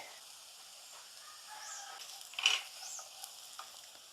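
Shallots and spice powders such as chili and turmeric sizzle quietly in a hot pan, a soft steady crackle with a brief louder stir near the middle.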